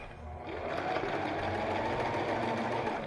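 A sewing machine stitches around the lining of a fabric handbag, giving a steady, close mechanical whirr with a fast, even rhythm that runs without a break.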